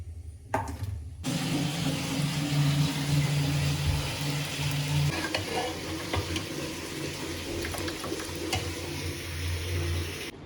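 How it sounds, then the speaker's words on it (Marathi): Potatoes frying in a home kitchen pan, a steady broadband sizzle with occasional stirring scrapes and clinks, moderately close and continuous with no talk. "आता बटाटा फ्राय करणार आणि भात"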